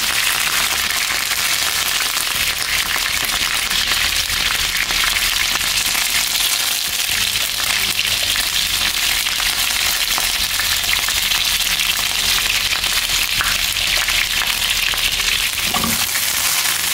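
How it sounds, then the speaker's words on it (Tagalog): Steady, loud sizzling and crackling of fish frying in hot oil, continuous throughout with occasional sharper pops. "Habang tayo ay nagpiprito po ng ating isda"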